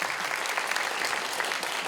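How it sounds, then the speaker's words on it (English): Steady, dense audience applause at a university cultural event, continuous and fairly loud clapping from a crowd with no pauses throughout. "Give her a round of applause,"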